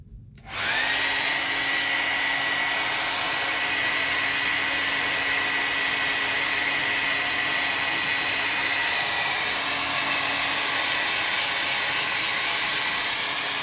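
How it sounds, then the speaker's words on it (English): A blow dryer switches on and runs continuously with a steady, loud whooshing roar close by, its pitch holding level throughout, drying watercolor paint on paper. "take the blow dryer, dry it"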